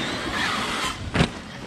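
A Traxxas X-Maxx RC car running on a 6S battery gives a brief, sharp electric motor whine over steady outdoor noise, lasting about a second.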